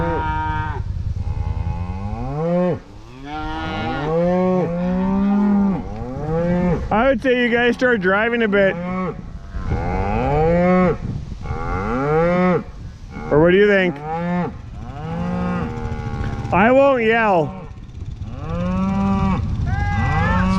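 Cattle on a farm moo loudly and close by, one long call after another with only brief gaps. A voice speaks briefly between the moos.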